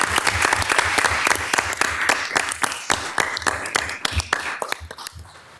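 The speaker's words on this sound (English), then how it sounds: "so you can receive a round of applause along with everyone else" Audience at a city council meeting in Dubuque applauding, a crisp round of clapping with distinct individual claps, fairly near, tapering off toward the end.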